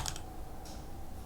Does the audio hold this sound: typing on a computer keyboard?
yes